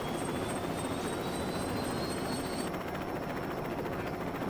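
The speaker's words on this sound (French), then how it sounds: "Oui, regardez, c'est un hélicoptère." A steady, dense rotor roar of a helicopter in LEGO City Undercover fills the clip with constant loudness, accompanied by a thin high whine.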